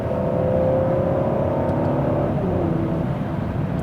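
A 2018 Mercedes E400 coupé in AMG-Line trim rumbles with a deep, sonorous engine note while changing down gears, a steady droning growl whose tone shifts midway, heard from inside the car.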